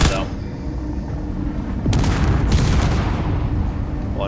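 Loud continuous barrage of gunfire and missile blasts in a video game battle, a dense roaring rumble with sharper bursts swelling midway, close and sustained throughout.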